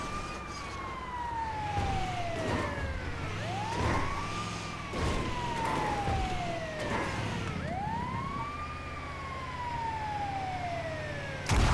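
A wailing ambulance siren in Grand Theft Auto V sweeps up and down repeatedly over engine rumble, steady and moderately loud, with a brief clatter at the end as the ambulance catches on a curb.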